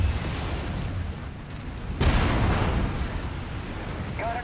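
A destroyed target blows up in MechWarrior 5: a sudden broadband blast bursts over a low rumbling battlefield background, followed by a lingering roar that slowly fades.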